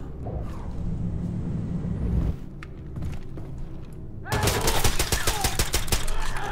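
Weapons fire in Wolfenstein: The New Colossus, with scattered loud shots early, then a dense burst of rapid, close machine-gun fire rattling continuously to the end.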